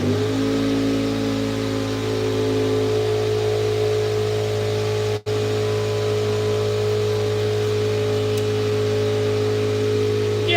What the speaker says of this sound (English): Turn my air compressor on.